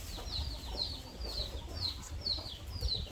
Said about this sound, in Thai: เสียงเป็นเสียงไก่